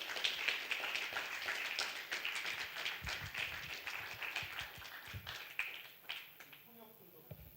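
A church congregation claps to welcome the pastor to the pulpit at a Sunday worship service, a sustained patter of hand claps that thins out toward the end while a voice speaks over it.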